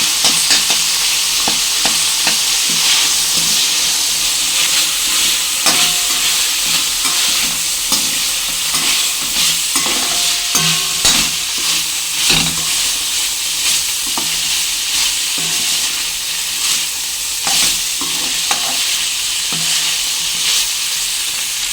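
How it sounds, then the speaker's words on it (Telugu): Mutton liver frying with a spoonful of ginger garlic paste in a hot pan, a dense continuous sizzle and crackle with frequent stirring scrapes, close and loud throughout, no voices. "అల్లం వెల్లుల్లి పేస్ట్ 1 స్పూన్ వేసుకోండి. వేసుకుని ఫ్రై చేసుకోండి."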